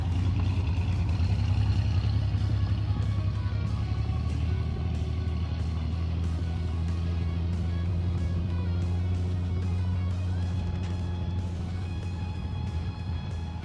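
A muscle car at a car show runs with a loud, steady, deep engine drone that holds for the whole stretch and eases slightly toward the end, with no talking.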